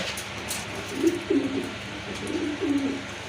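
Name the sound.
pigeons cooing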